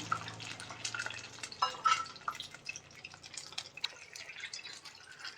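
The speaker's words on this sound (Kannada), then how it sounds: "ಇವಾಗ ಅದಕ್ಕೆ ನಾನು ತಿಳಿ ಹಾಕ್ತಾ ಇವಾಗ ಮುಕ್ಕಾಲು ಕಪ್ ತಗೊಂಡಿದ್ದೀನಿ" Rice water is poured into a cooking pan for a sweet dish, a faint trickling and dripping pour with small splashes that carries on steadily and quietly.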